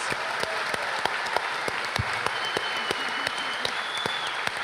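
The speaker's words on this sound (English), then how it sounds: "Give our contestants a round of applause." A studio audience claps steadily for game show contestants after a Jeopardy final round, with a dense, even patter of applause that stays alone at moderate loudness throughout.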